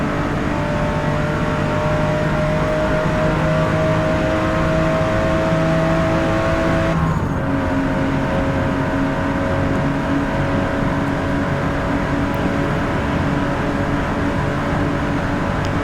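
A Porsche race car engine in Forza Motorsport holds a loud, steady high-rev drone throughout, with a brief shift in pitch midway through, alone without voices.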